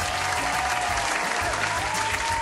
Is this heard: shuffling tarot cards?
no